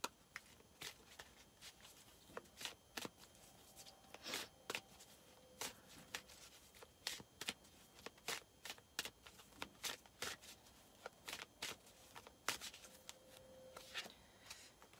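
Oracle activation cards are shuffled by hand in a quiet room, a long run of crisp riffling snaps and soft slides coming close and steady, with short pauses between bursts.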